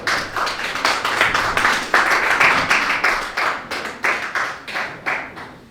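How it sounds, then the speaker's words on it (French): Church congregation applauding together, a dense burst of hand clapping in a pulsing rhythm that swells and then thins out, with no voices over it. "Acclamons pour la parole de Dieu que nous venons de lire."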